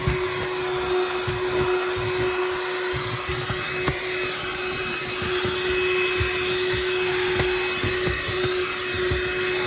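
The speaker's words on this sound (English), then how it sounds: "You can try to vacuum up with this." A Black+Decker Dustbuster cordless handheld pet vacuum runs steadily throughout, a constant high whine with a strong tonal hum and faint rattling pickup noise, close and alone.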